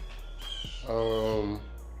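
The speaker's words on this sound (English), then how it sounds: "them birds loud as hell" Birds call loudly nearby in a short harsh burst, with faint background noise around them.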